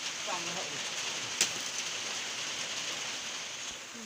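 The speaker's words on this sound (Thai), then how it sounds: "รอบดึกนี่ฝนตกสั่นทุกคน" Steady broadband rain hiss pours down at night during a wild boar hunting stakeout, a continuous even wash with one brief sharper tap near the middle, faint voice-like traces early on.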